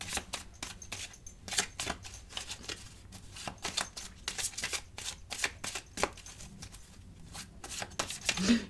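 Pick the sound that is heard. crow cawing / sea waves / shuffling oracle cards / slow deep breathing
shuffling oracle cards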